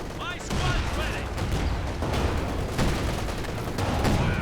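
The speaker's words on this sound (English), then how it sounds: "The mass artillery causing him a lot of bleed." Massed artillery fire in the Company of Heroes 2 strategy game during a large 4v4 battle, a dense barrage of overlapping booms and blasts rolling on continuously, with a voice talking over it.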